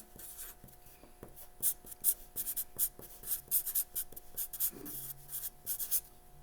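A pen writing a name across the top of a sheet of paper during a home-instruction story lesson: a steady run of quick, close scratchy strokes with short pauses between letters, heard alone without talk.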